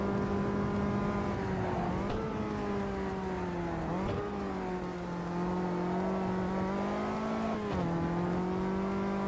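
A Caterham race car in the Automobilista 2 sim screams through the gears, engine note rising steadily then dropping sharply at each upshift, with a few shifts and a constant loud, close drone.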